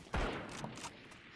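A single sharp Sheriff pistol headshot rings out in the video game Valorant, followed by a short fading tail and quiet background game noise.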